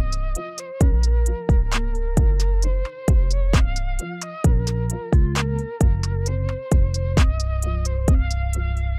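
Beat arrangement of a track plays loud and close, with punchy deep bass hits, crisp hi-hats and a melodic line in a steady rhythm, no voices.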